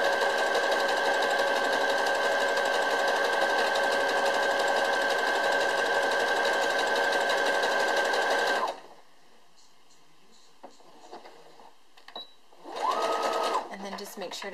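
A sewing machine stitches along a fabric edge in a steady, loud, close whirring run, then stops. A short second burst of stitching follows after a pause, with a voice talking quietly in the gap.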